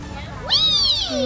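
A cat greeted at a Chiang Mai art spot gives one clear, close rising-falling meow that ends in a lower trailing tone, with quiet background hum and no talk during the call.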